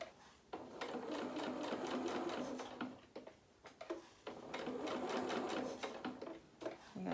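Fabric for a Luna Lapin Christmas rabbit's body and limbs is stitched on a sewing machine, which runs in two close bursts of fast rhythmic needle clatter separated by a brief pause, with no voices.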